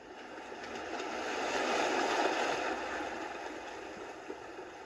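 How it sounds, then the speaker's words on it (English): On its mighty sea-wave setting, a sound machine puts out a dense, continuous roar of surf that builds to a peak mid-way, then eases slightly, loud and unbroken throughout. "A mighty sea wave."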